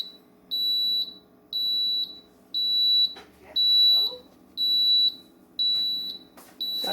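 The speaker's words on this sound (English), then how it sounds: "Oh, it even makes noise." A Nostalgia egg cooker sounds its done alarm: a clear, high electronic beep repeating about once a second, with short gaps between beeps and faint talk underneath.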